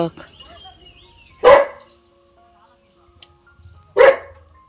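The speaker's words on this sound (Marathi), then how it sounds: "भुंकतच राहणार आहे" Two loud, sharp single barks from a dog at a village home, spaced a few seconds apart, with faint background speech and quiet ambience between them.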